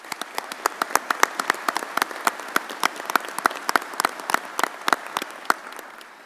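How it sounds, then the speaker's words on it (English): Audience applause for police officers at a state law-enforcement commission meeting, a steady round of many hands clapping with sharp individual claps throughout, moderately loud and without speech. "Would you please give them a round of applause?"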